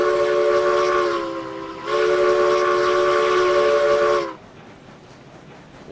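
A Lima steam locomotive in the RailRoads Online video game sounds its whistle in two loud, sustained chords, a short blast followed by a longer one, then cuts off into quiet hissing background noise.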